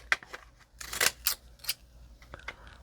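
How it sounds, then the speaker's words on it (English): A few crisp snips and rustles of old Fiskars decollage scissors cutting paper, close by, in short irregular bursts with quiet gaps between them. "Use my decollage scissors."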